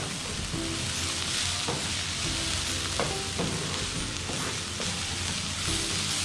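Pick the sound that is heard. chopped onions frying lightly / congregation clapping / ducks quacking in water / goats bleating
chopped onions frying lightly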